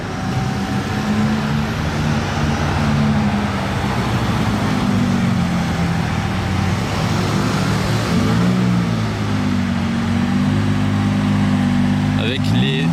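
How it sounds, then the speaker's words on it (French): Lamborghini Reventon Roadster with a Murcielago Super Veloce engine rumbles steadily nearby in a Monaco street, a continuous deep engine note rising and falling slightly amid traffic noise, with voices faintly present. "Moteur de Murcielago Super Veloce."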